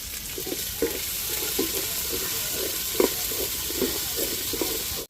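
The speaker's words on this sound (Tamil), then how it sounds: "அடுத்தது கருவேப்பிலை சேர்த்துக்கிடுவோம்" Curry leaves crackle in hot oil for a Tirunelveli sodhi kuzhambu, a steady hiss with soft spitting pops and stirring scrapes at a moderate level.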